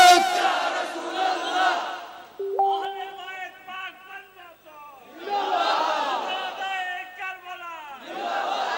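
A crowd at an Islamic waz sermon in Bangladesh answers a takbir call with loud unified chanting in two bursts, separated by a held tone and murmuring voices.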